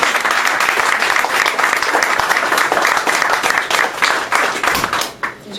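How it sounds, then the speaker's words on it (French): A crowd applauds warmly at a Quebec poetry event, dense clapping sustained throughout before thinning out near the end. "Une belle main d'applaudissements"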